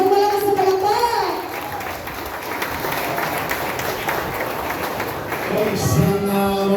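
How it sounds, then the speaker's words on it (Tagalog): Applause from an audience at a gathering in Tondo, Manila, welcoming an SMNI anchor to the stage. The clapping is steady and fairly loud for the whole span, with a voice and some crowd chatter over it. "Isang malakas na palakpak!"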